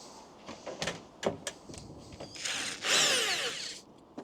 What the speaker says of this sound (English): Always an excuse to get the drill out.